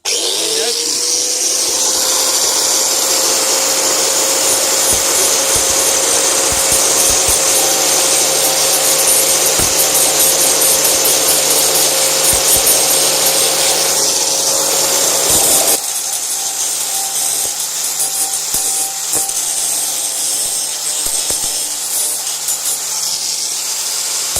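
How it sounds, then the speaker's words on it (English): A handheld angle grinder stripping paint from steel ahead of welding, running as a loud, steady high whine with constant abrasive rasping that drops in level and pitch partway through, then continues more quietly to the end. "I'll just get the angle grinder"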